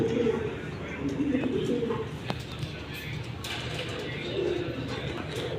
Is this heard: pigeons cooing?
yes